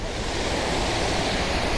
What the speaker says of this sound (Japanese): 滝が見えてきました。